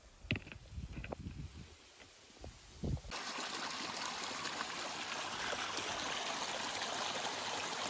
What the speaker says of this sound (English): Tiny little Zephyr Creek.